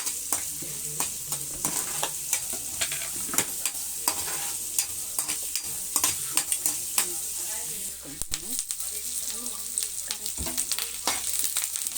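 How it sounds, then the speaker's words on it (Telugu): Green chillies and onion fry in hot oil in a pan, a loud continuous sizzle broken by frequent scraping stirs and sharp spatula knocks against the metal, with no talking. "పచ్చిమిర్చి, ఎర్రగడ్డ వేయించుకోవాలి బాగా."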